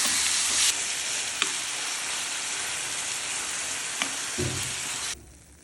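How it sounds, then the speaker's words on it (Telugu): Steady, loud sizzling of tamarind chutney frying in hot oil tempering, a continuous crackling hiss with a couple of faint clicks, cutting off abruptly near the end. "మగ్గిందంటే ఇప్పుడు మిక్సీ పట్టిన చింతకాయ పచ్చడి మొత్తం వేసుకోవాలి"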